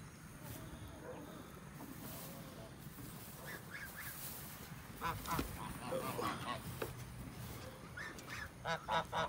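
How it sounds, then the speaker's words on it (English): Several ducks and an African goose honking and quacking close by after rain, in scattered bursts that grow busier toward the end, with faint voices in the background. "All the goofy ducks and our African goose growing up."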